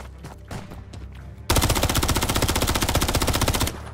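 Automatic weapon fire in the video game Modern Warfare 3 bursts in suddenly as a loud, rapid, continuous stream of shots lasting about two seconds, following quieter game sounds.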